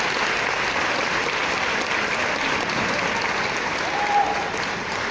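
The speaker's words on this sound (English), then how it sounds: "Can we have a round of applause for all that are here tonight?" An audience of winners, nominees and parents at the Young Scot awards 2018 claps in sustained, even applause from a crowded hall, loud and unbroken for the whole stretch.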